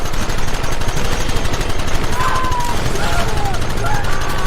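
Rapid gunfire in Red Dead Redemption, continuous rattling bursts of shots, loud and close, with faint whistling effects mixed in.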